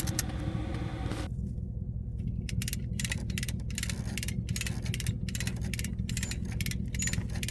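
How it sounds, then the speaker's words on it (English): A come-along hand winch clicks through rapid ratcheting bursts as it drags hay bales out of a trailer, the loud close clatter starting after a second of low rumble over a steady engine-like drone. "I just use the come along and then reset the come along until I can pull the hay completely out of the trailer"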